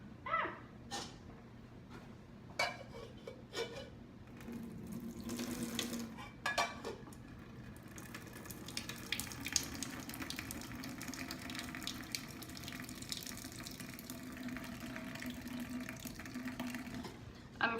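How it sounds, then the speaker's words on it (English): Kitchen sink tap water pours steadily while pasta noodles are drained, opening with a few clanks and splashes before settling into a continuous close rushing stream that carries on unbroken to the end. "So we are going to drain these pasta noodles."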